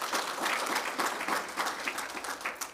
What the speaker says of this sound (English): If you could also give them a round of applause.